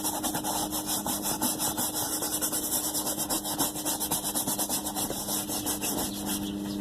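Steady rhythmic scrubbing of a leather car seat with cleaning product, brisk back-and-forth rubbing strokes close by, with no talking.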